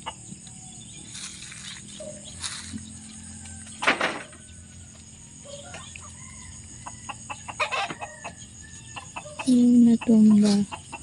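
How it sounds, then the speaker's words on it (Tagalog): Chickens on a rice farm, with clucks and brief calls scattered among rustling outdoor noise and faint voices, ending in a couple of louder, sustained squawks. "Manok."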